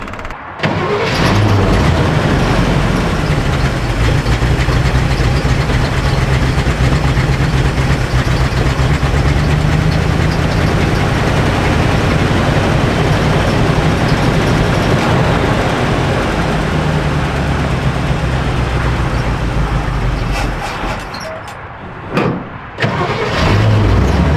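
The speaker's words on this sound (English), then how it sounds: "All right, let's try to start again." An old Chevy truck kept in one family for 60 years cranks and catches, then runs loud and close for about twenty seconds before shutting off, with faint knocks near the end and no talk.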